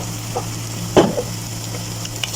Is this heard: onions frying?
yes